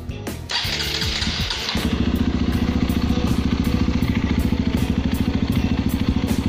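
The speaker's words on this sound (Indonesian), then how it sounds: "Wah, ini dia suara knalpotnya." A Honda CRF150L with a Norifumi Rocket 4 aftermarket exhaust starts up close by, then settles into a loud, steady, throbbing idle of the single-cylinder engine.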